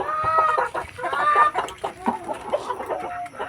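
Free-range backyard chickens cluck in a busy overlapping flock, close and fairly loud, with a rooster-like call among them and no talking.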